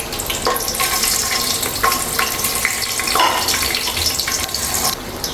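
Whole cardamom, cinnamon and cloves frying in hot oil in a pan for chicken biryani rice, a steady close crackling sizzle with a few sharper pops and clinks, no voices.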